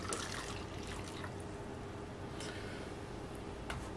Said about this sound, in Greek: σε ένα μπολ θα βάλουμε ένα φλιτζάνι καυτό νερό